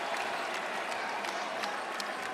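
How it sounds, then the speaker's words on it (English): Arena crowd clapping at an NCAA men's college basketball game between Butler and UConn, a dense, continuous patter of many hands with a few sharper claps standing out, steady and fairly distant. "Now this is restless clapping for the crowd."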